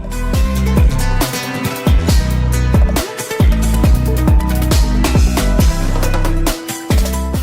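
Technical instrumental music, with busy, rapid guitar lines over punchy, syncopated drums and bass, loud and continuous with a few brief stop-start breaks.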